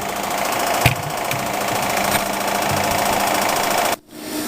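A metal lathe rough-turning a metal sphere by hand gives a steady, loud, dense cutting rattle with a few sharper knocks, running nearly throughout before a brief dip near the end.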